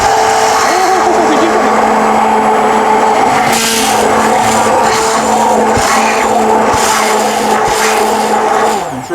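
An MRQ food processor runs on high turbo speed while making cucumber salad, a loud, steady motor whine with a strong tonal hum that persists throughout, with a voice talking over it.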